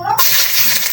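Oil poured into a hot pan hisses into a sudden loud sizzle that starts abruptly and carries on as a bright, steady crackle, with no talking.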